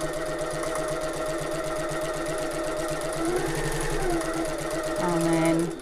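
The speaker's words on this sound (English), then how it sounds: "So we're back stitching at the start of this dart." A sewing machine stitches a dart on a tote bag, running in steady rapid bursts with a brief back stitch, its rhythmic mechanical whirr close and fairly loud while a person talks over it.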